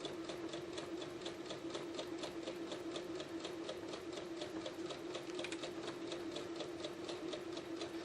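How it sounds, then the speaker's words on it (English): Steady, fast, evenly spaced needle clatter from a sewing machine fitted with a quarter-inch foot, running continuously and close as it stitches a quarter-inch quilt seam, with no voices over it. "And then let's sew this 1/4 inch seam."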